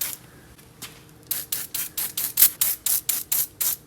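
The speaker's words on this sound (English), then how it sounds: "spray all these rusty bolts on the exhaust" Penetrating oil sprays onto rusty exhaust bolts on a VW Type 4 engine from a Porsche 914, a quick run of about a dozen short, sharp hissing bursts in steady rhythm, close and fairly loud.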